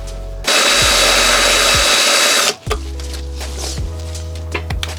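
A power drill with a size 30 bit drills out spot welds on a GT86 during a Grannas T56 kit install, a loud close steady whine of about two seconds, then lower motor hum and clunks as it winds down.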